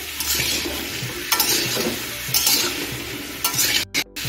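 Vegetables with turmeric are stirred and sautéed in a pan, a continuous close sizzle broken by several scraping stirs and a few sharp clinks of the utensil near the end; nobody speaks.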